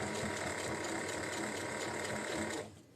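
Sewing machine running steadily on its longest top stitch along the edge of a tote bag lining, a continuous close mechanical whirring and ticking that stops abruptly near the end.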